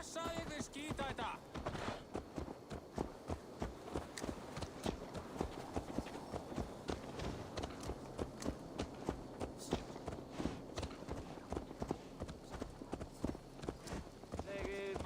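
Rhythmic clip-clop of horse hooves in the video game Assassin's Creed Valhalla at a steady walking pace, fairly close, over a continuous background of ambient sound and music.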